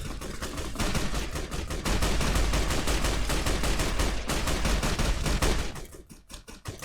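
Sustained rapid gunfire from a weapon in Fallout: New Vegas, a dense stream of evenly spaced shots that stays loud and steady for several seconds, then breaks into a few scattered final bursts.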